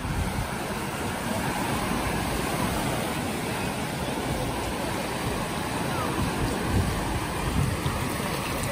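Sea water at Levante Beach in Benidorm, a steady broadband wash of surf and wind across the whole stretch, close and fairly loud with no clear talk.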